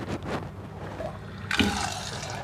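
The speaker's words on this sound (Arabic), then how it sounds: "هنحط فيه مية" Water poured from a tap or container over a quarter kilo of washed fava beans for Egyptian bessara, a steady splashing fill that grows louder and brighter partway through, close by with no talk.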